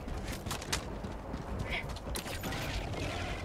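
A machine gun is reloaded in the Helldivers 2 game, with faint mechanical clicks, creaks and clatters of the magazine and action over low background game noise. No one talks.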